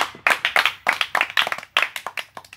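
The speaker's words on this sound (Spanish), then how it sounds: "Aplausos." An audience claps after a performance, giving close, distinct, uneven claps from what sounds like a small group.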